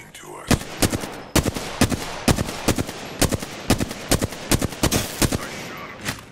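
Gunfire in the battle royale video game Apex Legends: a steady run of sharp, loud shots, mostly single cracks with some quick bursts, spaced through the whole stretch over a busy game background.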